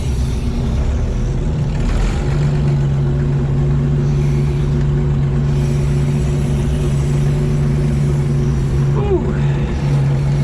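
Gas Uni Mule side cab combine rumbles along in third gear, a steady loud mid-pitched engine drone with a sustained hum and brief mechanical whine near the end, heard close up.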